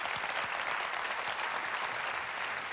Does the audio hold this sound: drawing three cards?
no